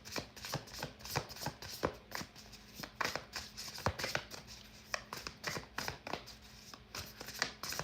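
A mass-market tarot card deck is shuffled by hand in a steady run of sharp, papery riffles and taps. The sounds are close and fairly quiet, with faint talk at times.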